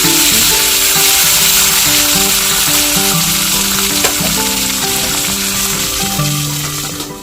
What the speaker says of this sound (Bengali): এরপর হবে কুঁদরি ভাজা